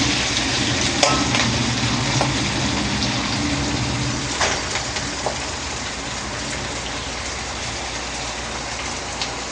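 Vegetables stir-frying for fried rice in a hot pan, a steady dense sizzle with scattered scraping stirs, close and continuous with no voices.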